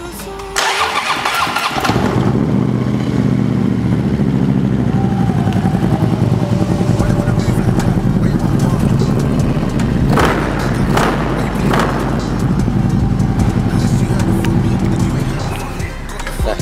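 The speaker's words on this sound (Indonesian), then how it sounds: "Kita langsung cek sound motor yang Street Glide putih ini," White Harley-Davidson Street Glide motorcycle cranking and firing up, then a loud, deep, lumpy idle from the engine and exhaust close by, with brief throttle blips partway through.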